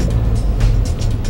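A KAMAZ 5044 four-axle 440 hp truck pulls away in third gear, its loud low diesel engine rumbling steadily and close throughout with some mid-range roar on top.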